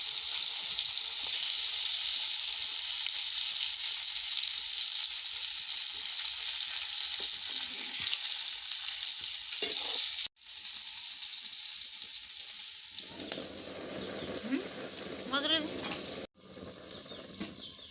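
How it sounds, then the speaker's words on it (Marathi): Masala-stuffed eggplants frying in oil in a covered pan with turmeric, a bright continuous sizzle that stays steady, then drops away after a sharp break as the pan is handled and stirred, with a brief scraping clatter. "आता झाकण ठेवून वांगी तेलामध्ये शिजून घ्यायची आहेत"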